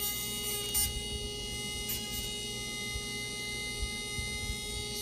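An iGel Beauty Model XS e-file drill for acrylic nails runs at reduced speed, giving a steady, even electric hum with a faint buzz, continuous throughout and broken only by a few soft handling knocks.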